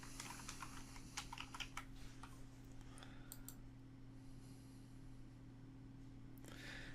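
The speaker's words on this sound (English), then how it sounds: "you've got to put in your username and password." A username and password are typed on a computer keyboard, a quick run of soft close key clicks over a quiet steady hum, thinning out midway with a few more taps near the end.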